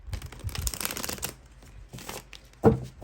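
Tarot cards are riffled and shuffled in close quiet bursts, followed by a soft snap as a card is drawn and set down.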